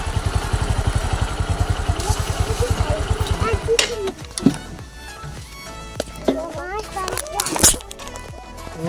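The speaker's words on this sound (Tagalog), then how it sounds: "Yan, dami mga motor dito." A motorcycle engine putters rhythmically nearby in a parking area at the Tabon Cave Complex, then cuts off, leaving clatter, footsteps and people chatting in the background.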